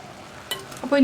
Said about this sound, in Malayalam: നന്നായിട്ടൊന്ന് ഇളക്കി മിക്സ് ചെയ്യുക.